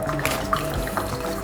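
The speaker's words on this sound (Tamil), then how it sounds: "இப்போ இப்படியே வருது, தண்ணி மேலே வருது." Water from an aquarium motor pipe splashes and drips steadily into a fish tank, with soft dripping accents over a continuous watery trickle and a faint motor hum underneath.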